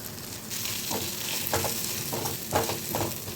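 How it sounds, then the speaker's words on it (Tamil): Tomato and onion masala sautéing in a pan, a steady sizzle broken by several distinct stirring scrapes of a spatula at irregular intervals, close and moderately loud with no voices. "இப்போ நம்ம தக்காளி வெங்காயம்லாம் நல்லா வதங்கிடுச்சு."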